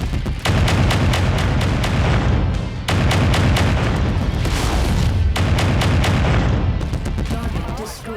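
Mech weapons firing in MechWarrior 5: Mercenaries: loud, continuous barrages of booming cannon and rapid autofire, broken by two short gaps, with a voice faintly under the battle noise.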